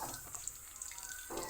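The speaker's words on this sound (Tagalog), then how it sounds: "ilalagay na natin ang liputok o kakang gata" Coconut cream pours with a faint, steady liquid trickle into jackfruit vegetables cooking in a pot; the sound is quiet and continuous with no voices.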